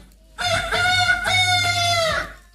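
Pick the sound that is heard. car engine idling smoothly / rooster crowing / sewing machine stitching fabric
rooster crowing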